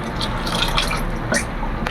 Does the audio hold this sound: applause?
no